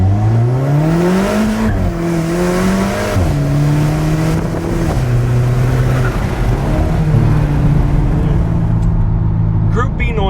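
An Alfa Romeo 4C coupe engine revs up and down in loud, rising and falling pitch sweeps as the car drives, with a voice talking over it throughout.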